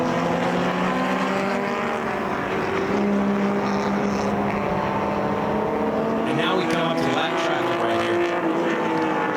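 Vintage Triumph race cars, including a green TR4, lapping Mid-Ohio during an SVRA race, heard as a continuous loud engine drone with shifting pitch as cars pass, under a commentator's talk.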